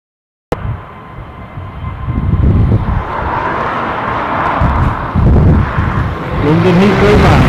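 A jet airliner takes off from Dublin Airport bound for London Heathrow, its engine roar bursting in abruptly and then holding as a loud, steady broadband rumble for several seconds.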